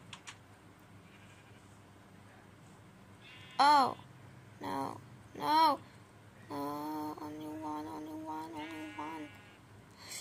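A video-game sheep bleats several times: quavering cries come in short separate bursts, then a longer wavering run, each clear against a quiet background, with a few brief spoken words nearby.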